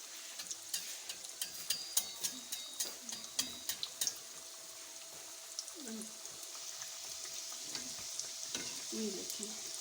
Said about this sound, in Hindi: और हमें इतने ही ऑयल में डालना है ताकि हमारे अच्छे से ये समोसे अंदर तक पक जाएं।